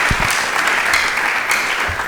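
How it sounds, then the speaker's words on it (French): A crowd applauds strongly after an on-stage announcement, a continuous loud wash of clapping with a few sharper individual claps standing out. "je vais encore demander au public d'applaudir très fort pour Ishango"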